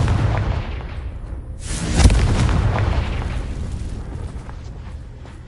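A loud booming explosion from the Confringo fire spell in the Hogwarts Legacy video game, bursting sharply near the middle over a rumbling background of game noise.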